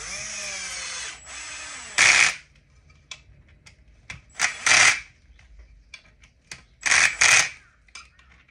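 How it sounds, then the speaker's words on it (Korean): Close up, a power drill drives screws into an RC car assembly, cutting in with three or four short, loud whirring bursts between quiet pauses with small clicks. "수지 파트에 나사를 조일 때는 항상 딱 멈추는 데까지만 조입니다."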